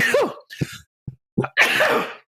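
A single sneeze bursts out at the start with a sharp nasal onset, then a few short breathy gasps and sniffs follow, ending in a second loud, noisy exhalation close to the microphone.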